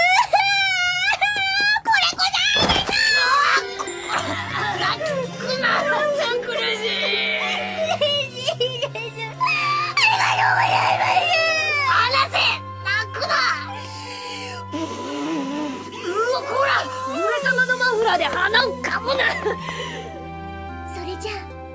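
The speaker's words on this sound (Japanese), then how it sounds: "なんだ、なんで泣いておるんだ。" A character in a Disgaea drama CD cries and wails loudly in long, sobbing, moaning bursts. Other voices speak in between, and the crying rises and falls across the whole stretch.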